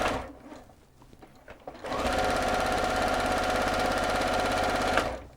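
A sewing machine runs a seam up the side of a dress, opening with a few short back stitches and then whirring in one long, loud, steady burst nearby.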